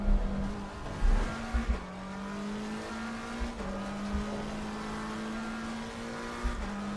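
A race car in a racing game time trial, its engine holding a steady high drone, then dropping as the driver brakes, with brief tire squeals and curb thumps scattered throughout.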